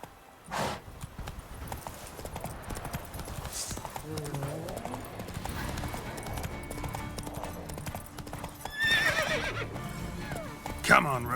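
Roach, a horse in the video game The Witcher 3: Wild Hunt, gallops with rapid hoofbeats under game music, and a loud neigh and whinnies rise near the start and toward the end while someone talks.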